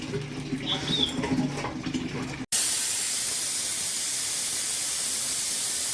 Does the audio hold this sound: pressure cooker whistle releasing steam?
yes